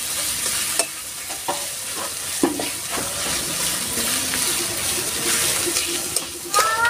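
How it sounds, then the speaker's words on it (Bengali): Onions sizzle in hot oil with salt and turmeric as a spoon stirs and scrapes the pan, giving a steady close frying crackle broken by several sharp clinks and knocks. "পেঁয়াজটা আমি সুন্দর করে লাল লাল করে ভেজে নেব।"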